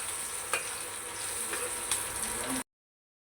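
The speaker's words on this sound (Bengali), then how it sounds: "আমি এখানে শুটকি রান্না করব, এই জন্য কড়াইতে পেঁয়াজ, রসুন আর কাঁচামরিচ দিয়ে দিছি।" Onion, garlic and green chili fry in a wok before dried fish goes in, giving a steady close sizzle with a few faint stirring clicks. The sound cuts to silence for the final moment.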